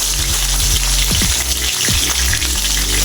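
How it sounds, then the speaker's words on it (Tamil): Eggplant sautéing in hot oil with popped mustard seeds for Tamil ennai kathirikai kulambu, a steady close sizzle and crackle throughout with brief stirring scrapes, no talking. "இப்போது கத்திரிக்காய் எண்ணெயிலே வதக்குங்க."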